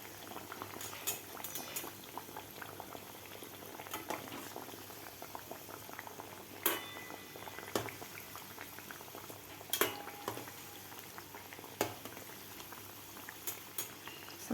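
Onion kachori deep-frying in oil over a very low flame, a soft continuous bubbling with occasional faint clicks and pops, quiet and close.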